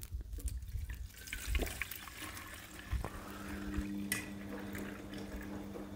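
Water is poured into a foam cannon bottle, measured out at 500 ml, producing a soft, close trickling and splashing that fills the bottle over a few seconds, with light handling knocks.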